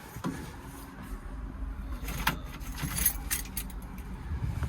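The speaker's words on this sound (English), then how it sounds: "Grab the keys." A bunch of keys jangles close by near a digger cab, a run of bright metallic clinks and rattles that keeps going for several seconds.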